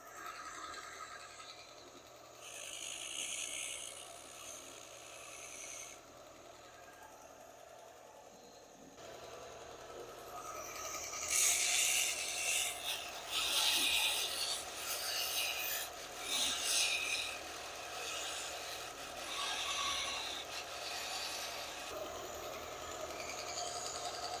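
Hand polishing and rubbing of the metal shaft of a Stanley screwdriver during restoration, a steady rasping scrub in repeated strokes that grows louder and busier partway through, close up with no talking.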